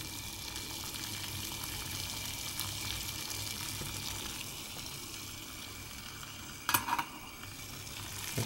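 Water boiling on a Batchstovez I.S. 2.0 camp stove gives a steady, hissing roil throughout, with a brief louder clatter near the end and no voices.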